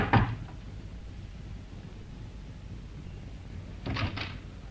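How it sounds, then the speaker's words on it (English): Knocking on a flat's door comes as two short bursts of sharp raps, one at the start and a quick cluster near the end, fairly close and loud against a quiet indoor room. "But instead, he knocked."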